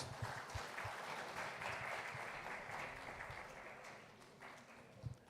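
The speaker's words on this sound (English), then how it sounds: "Can we applaud, please?" Faint, steady applause from an audience after a short wellness presentation, a continuous distant patter of clapping throughout.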